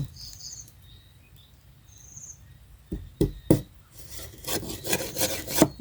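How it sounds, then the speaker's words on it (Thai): A bamboo strip being scraped with a blade edge, quiet at first with faint insect chirps, then a series of sharp scraping strokes growing louder and more frequent toward the end. "ขูดก่อนนะทำให้ดีๆก่อน"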